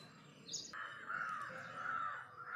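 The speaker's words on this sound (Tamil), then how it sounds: "காக்கா குருவி எல்லாம் கொத்தி சாப்பிட்டுட்டு இருக்கு" Crows cawing in the open while pecking at ripening papaya fruit on the plant, a steady, fairly faint stretch of calls and chirps with some other birds mixed in and no talk.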